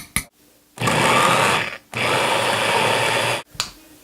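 A blender whirs loudly as it blends a fruit smoothie, running in two sustained bursts of about a second and a second and a half, separated by a brief pause, with short clicks at the start and end.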